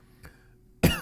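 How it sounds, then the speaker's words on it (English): A single sharp, loud cough bursts out near the end, after a brief faint throat sound and near silence. "Why am I coughing?"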